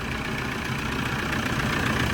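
A Toyota Vigo pickup truck engine idles smoothly, a low continuous rumble heard up close and steady, with no one speaking.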